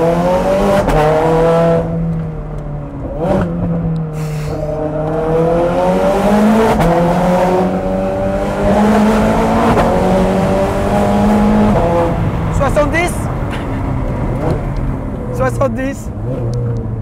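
A Ferrari 430 Scuderia with a Capristo exhaust accelerating hard, loud engine revs climbing through gear changes with brief drops between, up close and dominant, with a voice talking over it.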